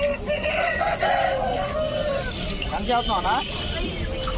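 A rooster crows amid busy poultry market noise, with people talking nearby and chickens clucking in the background.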